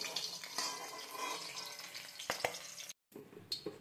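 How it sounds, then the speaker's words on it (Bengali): Fish heads frying in hot oil in a home kitchen, a steady close sizzle with occasional sharper crackles and scraping clicks of a utensil, broken by a brief silent gap near the end. "মাছের মাথাগুলো ভালোভাবে ভাজা হয়ে গেছে"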